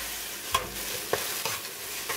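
Two eggs fry with rice in a pan for Hong Kong style beef and lettuce fried rice, giving a soft steady sizzle broken by a few sharp scrapes and clicks of stirring, fairly quiet with no talk.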